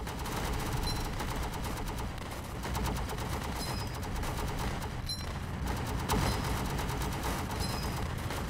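Continuous battle din from the World War Tower Defense video game: dense artillery blasts and rapid gunfire volleys rumble steadily throughout, with no talking over them.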